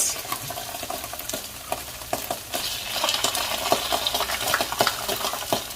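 Tomato paste goes into a pot of browned onions for jollof rice, bringing a low sizzle with spoon scrapes and clinks against the pot, close and steady.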